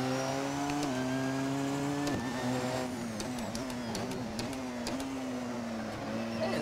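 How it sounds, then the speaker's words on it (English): A Porsche 919 LMP1 race car in Assetto Corsa drives at Silverstone, its engine a loud, steady high-pitched drone with pitch shifts as it changes gear and revs, heard alone without talk. "Assetto Corsa Porsche 919 test drive around Silverstone"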